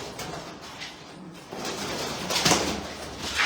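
Pigeons of a prized black breed coo nearby in soft, low throaty rolls, rising a little louder toward the end, with faint shuffling and background noise around them.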